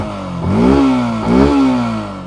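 Yamaha FZ S v3 BS6 motorcycle revving through its fat muffler, two rising throttle blips in quick succession over a steady idle, loud and close.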